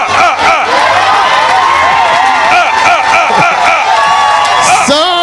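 A church congregation at a healing service cheers and acclaims the Lord, loud and continuous, with many voices shouting and ululating together in a dense crowd roar.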